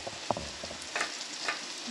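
Agri-style chicken frying in a pan, a short close burst of sizzling with a few scraping stirs and clinks, no voices.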